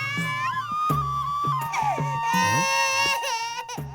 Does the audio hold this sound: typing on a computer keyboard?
no